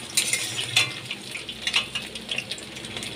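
Taro pieces frying in hot oil for a Bengali hilsa fish curry, with a steady soft sizzle broken by a few sharp clinks of a utensil stirring in the pan, close and moderately loud with no voices.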